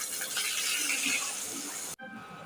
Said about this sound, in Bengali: আমি পানি দিয়ে দিচ্ছি